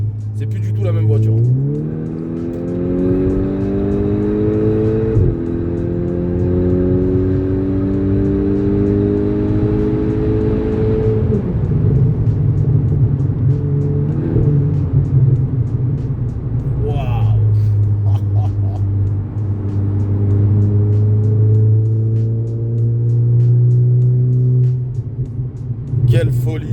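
A Volkswagen Golf 6R in sport mode accelerates hard through the gears, its loud engine climbing in rising pulls with shifts between them, heard from inside the car while the driver talks excitedly over it.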